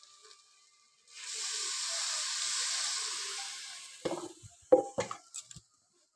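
A spice masala of ginger, garlic and tomato, with turmeric, chili powder and a splash of water, sizzles in a pan as a loud steady hiss. A few clattering knocks of stirring follow.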